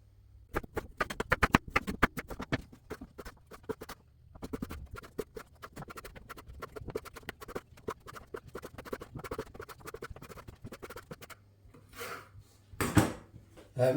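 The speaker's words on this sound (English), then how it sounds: "I'm just chopping me potatoes up now." A knife chops raw potatoes into chips on a board, rapid close-up taps and scrapes in irregular bursts with short pauses and no talking.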